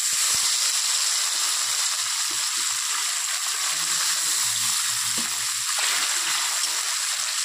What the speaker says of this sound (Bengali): তো তেলটা গরম হয়ে গেছে, এখন আমি তেলের মধ্যে মাছগুলো দিয়ে দেব।